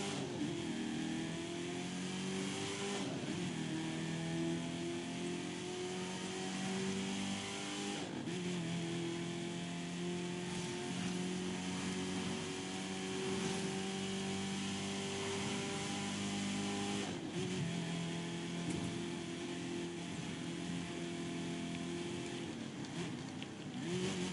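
A car engine in The Crew 2 racing game holds a continuous high rev, with brief dips and surges as it shifts, loud and steady throughout.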